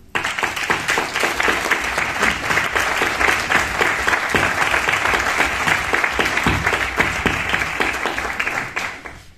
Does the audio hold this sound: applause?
yes